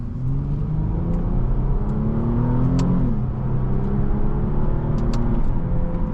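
A 2015 Infiniti Q60 IPL engine accelerating on the road, heard from inside the car: a steady, loud mid-pitched drone with rising tones and one brief dip, as if through a gear change, with no talk.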